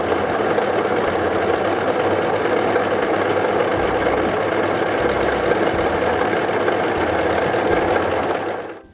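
A Brother CV3550 coverstitch machine running a wide cover stitch, a loud, fast, steady mechanical whir and rattle that holds evenly for several seconds before winding down at the end.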